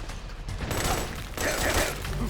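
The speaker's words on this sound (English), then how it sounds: "Suppressing fire!" Metal Gear Solid combat gives a sustained, dense burst of gunfire that fills the clip. The shots come close and loud in rapid overlapping volleys.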